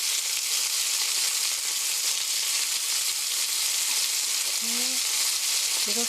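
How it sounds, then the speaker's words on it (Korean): Chicken pieces pan-fry in a hot pan, a steady close sizzle of oil running throughout with a couple of brief utensil scrapes near the end. "맛있는 소리 지글지글지글."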